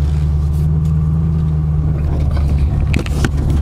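A 2008 Ford Mustang Shelby GT500 Super Snake drives along with a steady, loud low engine rumble heard from inside the car, with a few brief knocks near the end.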